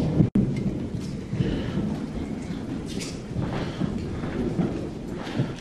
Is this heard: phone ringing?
no